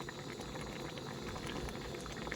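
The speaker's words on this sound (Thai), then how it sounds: "ต้มกระดูก หมู" Pork bones simmering in a pot of soup, a steady dense bubbling boil heard close and continuous throughout, with no talk.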